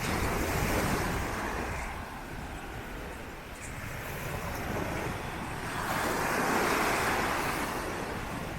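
Ocean surf on Lanas Beach, Carabao Island, Romblon, Philippines: a continuous broad wash of waves rising and falling, with wind buffeting the microphone and no voices.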